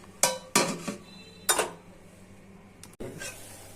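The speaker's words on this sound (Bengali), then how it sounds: "টমেটোটা সিদ্ধ হওয়ার জন্য ঢেকে দিচ্ছি" A metal pot being covered with its lid while tomatoes boil for a sour tomato curry, giving several sharp close clanks and clinks, a few quieter knocks, then a final bang, with no talking.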